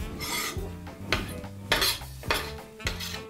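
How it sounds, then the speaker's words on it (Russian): Garlic goes into a frying pan amid repeated metallic scrapes and clinks of a utensil against the pan, close and in short bursts. "Давай чеснок мне. Я добавлю его в сковородку."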